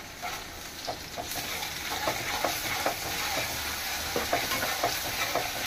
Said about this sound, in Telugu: ఉల్లిపాయ వేగింది. అల్లం వెల్లుల్లిపాయ పేస్ట్ వేసుకోవాలి 1 స్పూన్.